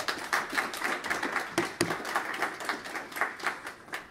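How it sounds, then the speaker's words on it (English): Applause from a seated conference audience after a technical talk, a steady patter of many hands clapping for a few seconds at moderate distance, with no voices over it. "Applause."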